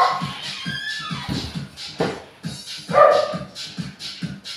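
Several dogs bark and yip in quick, uneven bursts close by, with some whimpering between barks.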